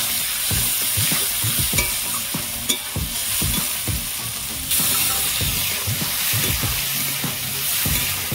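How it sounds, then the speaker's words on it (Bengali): Chopped tomato and raw green mango fry in hot oil and are stirred, giving rhythmic scraping strokes over a steady close sizzle with no talking. "তেলের মধ্যে ভালো করে ভাজা করে নেব।"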